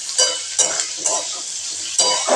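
Chicken and vegetables for chowmein sizzle loudly up close while being stirred, with repeated scraping bursts and light clinks of a utensil against the pan over a constant frying hiss.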